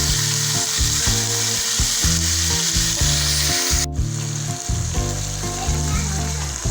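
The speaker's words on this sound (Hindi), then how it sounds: "प्याज ब्राउन होने के बाद इसमें हम चिकन ऐड करेंगे और चिकन को भी साथ हिलाते रहेंगे" Chicken frying with browned onions in a pot, a loud, steady sizzle with repeated scraping and stirring strokes throughout, close up and without talk.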